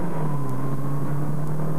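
Toyota Celica engine pulling under acceleration as the driver puts his foot down: a steady, droning engine note with a strong low hum, heard from close by over a continuous rush of road noise.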